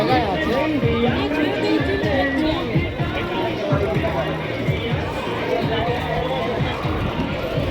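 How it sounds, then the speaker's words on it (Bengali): A dense crowd fills Digha's sea park, an amusement park with a toy train, in a steady, loud wash of overlapping voices and babble that never lets up. "এসে দেখলাম শুধু লোকের ভিড় আর কিছুই না"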